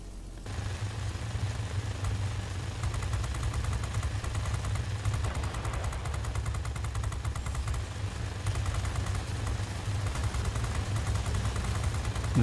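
Machine guns of an XF4U-1 fighter plane rattle in World of Warplanes, a rapid continuous stream of shots over a loud, droning engine roar, sustained throughout with brief shifts in intensity.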